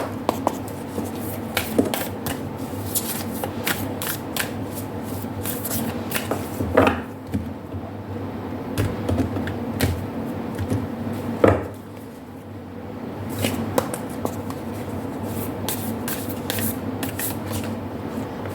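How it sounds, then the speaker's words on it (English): Soft, irregular riffling and tapping of oracle cards being shuffled, with a few sharper slaps, continuing steadily over quiet background hum. "I'm going to shuffle your oracle cards as well"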